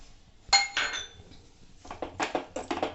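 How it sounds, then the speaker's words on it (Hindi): Salt stirred into tomato chutney cooking in a pot, a spoon clinking and scraping against the metal pot in a few close, bright knocks, one sharp strike followed by a quick cluster of stirs. "और नमक को अच्छे से मिला के"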